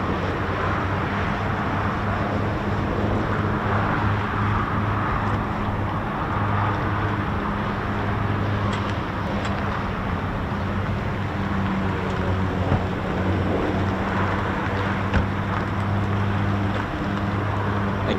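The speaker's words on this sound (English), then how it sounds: "Again, another aircraft that is powered by the Pratt & Whitney's amazing PT6 engine." An aircraft powered by a Pratt & Whitney PT6 turboprop engine at RAF Waddington runs with a steady droning hum and broadband roar, sustained and fairly loud throughout, no talk.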